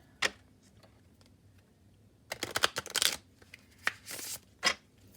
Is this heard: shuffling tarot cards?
yes